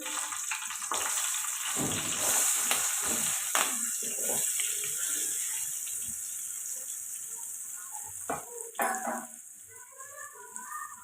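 Chopped green chillies and onions dropped into a hot pan for egg curry, giving a loud, broad hissing sizzle that gradually settles, with a few sharp clatters near the end.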